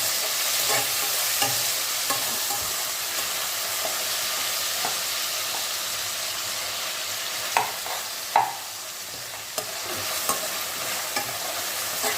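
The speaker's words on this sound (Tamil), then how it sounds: "நல்லா தக்காளி வதங்கட்டும்" Tomatoes sautéing in a pan for a village-style kuzhambu, a steady close sizzle under repeated scraping stirs, with a few sharper clacks of the spoon against the pan, no talking.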